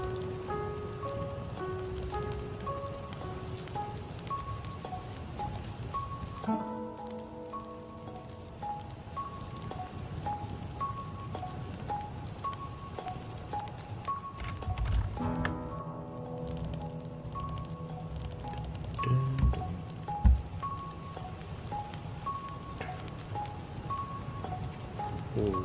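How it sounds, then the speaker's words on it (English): Steady rain in a video game patters and hisses over a soft musical backdrop of repeating tones, with a few louder thumps near the end. "Rain team has to set up Rain."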